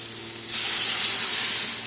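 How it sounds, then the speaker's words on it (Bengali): Water poured into a pan of hot sautéed spice paste, the quiet background suddenly bursting into a loud close hiss and steamy sizzle that holds steady. "এখন দিয়ে দেবো পরিমাণ মতো জল।"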